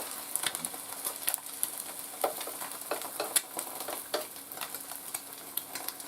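Eggs fry in a pan with a steady, close sizzle of fine crackles and small pops, no talk over it.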